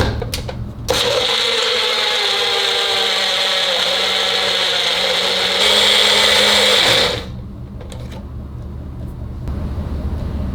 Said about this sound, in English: let's take it over to the blender and start mixing it up